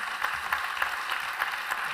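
Audience applause for three panelists at an agricultural round-table conference, a steady, moderately distant wash of clapping with faint periodic accents, continuous for the full two seconds.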